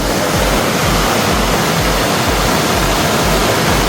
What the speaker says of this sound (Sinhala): ඔයාලා මේ දකින ඇලපාර පහන් කුඩාව ඇල්ලෙන් ගලාගෙන එන වතුර පාර තමයි ඔය එන්නේ පහළට වෙනකම්ම